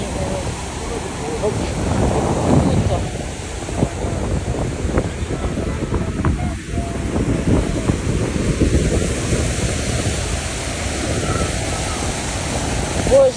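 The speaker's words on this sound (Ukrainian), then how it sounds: "То вода так падає." A steady, broad rush of falling water at Niagara Falls roars throughout, with wind buffeting the microphone and faint voices mixed into the constant noise.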